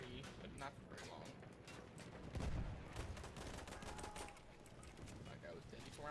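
Rapid gunfire in Battlefield 1 crackles in bursts over a busy battle din, punchy and fairly close, with someone talking at times over the shots.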